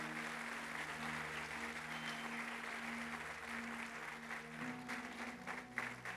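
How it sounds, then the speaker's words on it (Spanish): A church congregation claps for Jesus during a sermon, a sustained, fairly distant wash of applause with a low tonal hum of music or organ underneath. "Dale un aplauso a Jesús si lo crees."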